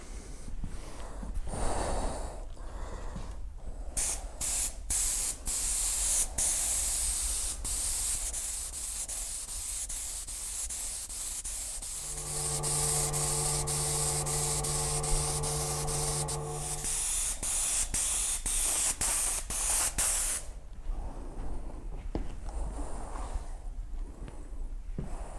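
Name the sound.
spraying clear coat over a car body panel repair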